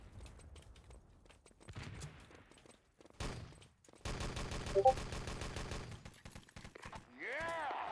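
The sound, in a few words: gunfire in a video game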